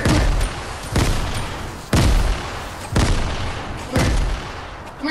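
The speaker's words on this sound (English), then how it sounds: "Oh, grenade." Repeated explosive blasts from grenades in the Fortnite battle royale game, five loud booming hits spaced about a second apart, each with a sharp attack and a rumbling tail, with no talk over them.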